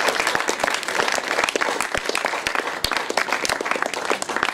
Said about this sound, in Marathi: जरा टाळ्या सगळ्यांनी वाजवूया मयुरेश करता.